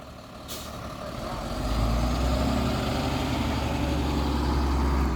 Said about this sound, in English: It's a big tractor.